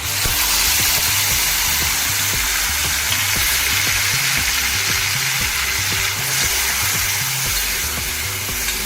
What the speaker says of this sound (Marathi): आता आपण त्यामध्ये कोलंबी टाकणार आहोत।